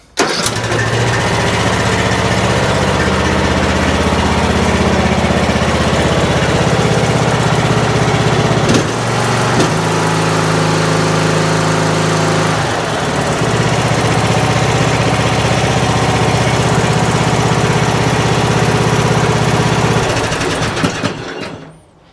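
A Troy-Bilt Pony lawn tractor's small engine runs loudly up close, revving up briefly and dropping back to a steady idle, with shifts in pitch and a sharp cut-off at the end.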